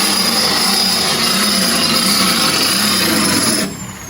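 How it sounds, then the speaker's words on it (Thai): Power drill boring into the metal roof frame of a New Holland TT3.50 tractor, a loud steady grinding whine close up that drops off sharply at the end. "เดี๋ยวตอนเจาะจะถ่ายให้ดูครับ"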